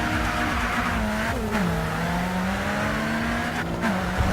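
Race cars roar around the track in the GRID 2 racing game, engines droning steadily at high revs with a pitch dip and climb as gears shift, loud and continuous with faint tire noise.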